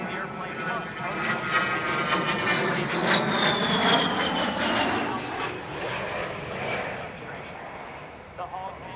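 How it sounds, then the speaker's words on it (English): Fairchild A-10 jet with two TF-34 turbofan engines passing at an air show, a loud, steady turbofan roar with a sweeping whine that rises and shifts pitch as it flies by. "The A-10's two TF-34 turbofan engines add more than just power to its performance."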